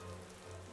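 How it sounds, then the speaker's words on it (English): Steady rain beating down as an audio drama sound effect, a brief dense wash of hiss and patter at an even level with no voices. "Rain beating down on you"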